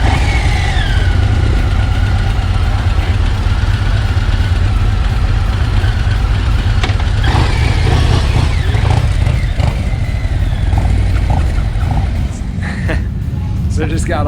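A Harley-Davidson Low Rider ST motorcycle engine rumbles steadily at a rally, a loud continuous low drone with rising revs near the end, while people talk over it.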